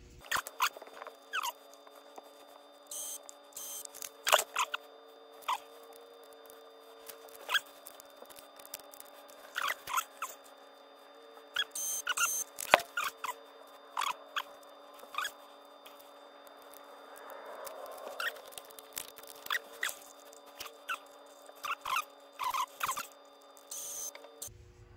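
Handheld label maker printing and cutting labels for wiring during a battery isolation manager upgrade, a faint motor whir broken by scattered sharp clicks and snips, quiet and irregular over twenty-odd seconds with no talking.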